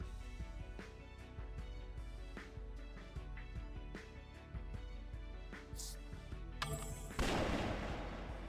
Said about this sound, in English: Damn, that's an impactful gun. I wasn't expecting the loud gunshot in my ears.